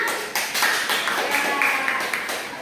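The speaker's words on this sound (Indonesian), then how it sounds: "Oke, beri tepuk tangan untuk si Bunga." A classroom of students claps together for a classmate, a brisk burst of many hands sustained for a couple of seconds, fairly close.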